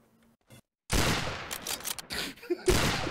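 Gunfire in the shooter game Trouble in Terrorist Town: after a brief quiet stretch, a loud, dense burst of shots with overlapping blasts runs for about two seconds and then cuts off, ending with another sharp report.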